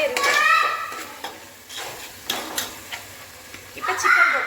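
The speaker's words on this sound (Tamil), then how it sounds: "தயிர் ஊற்றி நல்லா கிண்டி விட்டுட்டு" Yogurt is stirred into chicken biryani in a pot with a metal spoon, making clinking, scraping strokes and a soft sizzle while someone talks at the start and end.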